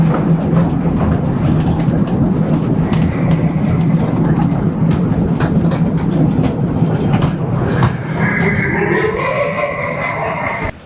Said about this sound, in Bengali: এই ট্রেনটা কিন্তু এই পুকুরের চারপাশ দিয়ে একটা রাউন্ড করবে